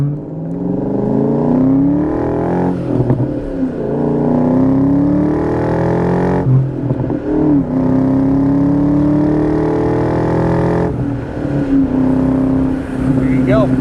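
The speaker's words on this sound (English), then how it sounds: "We'll do a little heavier acceleration again." A 2001 Ford Saleen's 4.6-litre engine revs up and pulls hard through several rising gear sweeps of its five-speed manual, each climb cut by a brief shift, loud and steady throughout.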